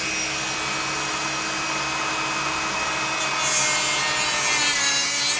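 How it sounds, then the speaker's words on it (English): A Dremel rotary tool at speed 8 cutting a Nissan 240sx KA intake manifold, a continuous high grinding whine with a steady abrasive rasp that grows slightly louder toward the end. "I'd say a good speed 8 on your Dremel."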